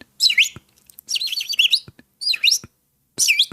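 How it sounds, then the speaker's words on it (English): Pet birds chirping indoors, several short bursts of bright, high tweets separated by brief pauses, close and clear. "Ah, this is my birds."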